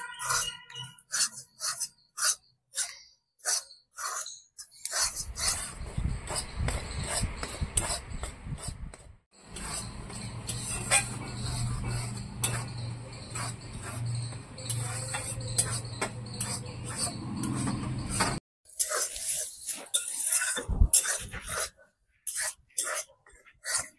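Rice flour, about 500 grams, is dry-roasted in a pan for pitha. A steady rasping scrape of stirring runs for roughly thirteen seconds over a low hum, with scattered clicks and taps before and after.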